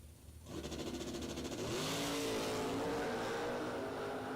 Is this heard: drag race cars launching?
yes